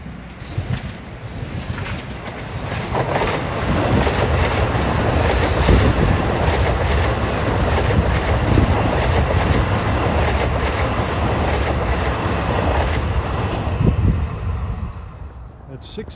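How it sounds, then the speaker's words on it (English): LIRR M9 commuter train 1662 passing eastbound on track 3, a loud sustained rumble of wheels with clickety-clack and faint squeal, building, holding, then easing off. "Comes 1662 from Grand Central to Huntington at 6:08, going east on track number 3"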